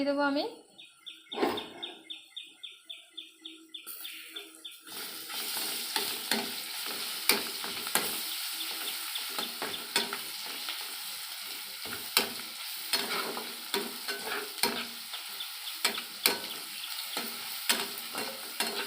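Onions and garlic frying in a pan give a steady, close sizzle, with the clink of a utensil stirring through it and no speech over the cooking.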